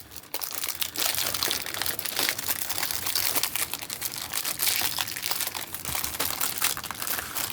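Tape and packaging being pulled and crumpled while a budget-friendly canvas art package is opened, a dense, continuous crinkling and tearing close by with no talking.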